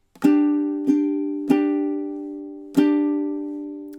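Ukulele strummed on one held chord for the second measure of a song, four bright strums in a down, up, down, down rhythm, each ringing out, close and alone without talking.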